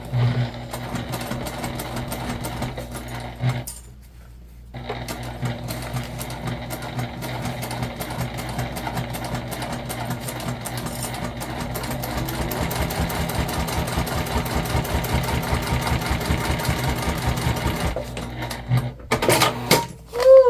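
Sewing machine stitching binding onto a waist pack, running in rapid steady bursts with a brief pause early on and a stop near the end, close and fairly loud with no talk.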